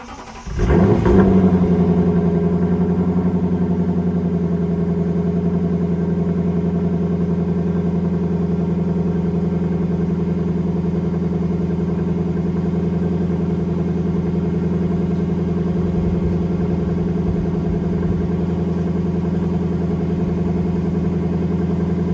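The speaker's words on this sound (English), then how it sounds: "we'll go ahead and do a cold start" A Lexus LC500 engine cold-starts with a sharp crank and flare, then settles into a loud, steady, deep idle that runs unbroken for about twenty seconds, close up with no talking.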